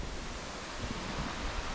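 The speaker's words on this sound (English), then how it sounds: "That's where the river's flowing back here." Broadband rushing water of a river flowing beside a historic village with old ruins, a steady loud wash with some wind buffeting the microphone; no talking.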